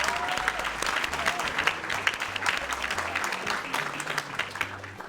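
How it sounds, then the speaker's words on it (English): A hall audience at a middle school Hispanic and Latin American Heritage celebration breaks into sustained, dense applause that stays steady for several seconds, with faint crowd noise underneath. "Let's give it a round of applause"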